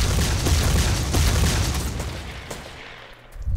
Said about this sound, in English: I'm hearing explosions!